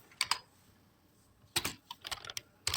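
Quick clusters of clicks from keys on a computer keyboard while code is typed into Notepad, close and crisp, with short bursts separated by brief pauses and no talking.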